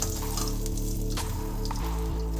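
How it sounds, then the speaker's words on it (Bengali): Pieces of catla fish fry in hot oil with a steady, loud sizzle and crackle, with a faint stir or shift partway through and no talking. "এইভাবে আমি দুটো দুটো করে সব মাছ ভেজে নিচ্ছি।"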